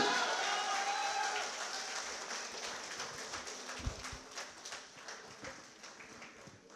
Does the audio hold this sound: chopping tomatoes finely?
no